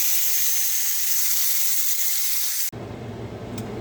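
New York strip steaks sizzle loudly and steadily in a hot pan, a dense close hiss that cuts off abruptly near the end to a quieter low rumble.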